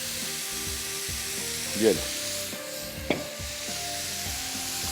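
Two tablespoons of chopped garlic and beef for steak wraps fry in oil with a steady close sizzle, two louder spatter bursts, and a background hum, while someone speaks briefly.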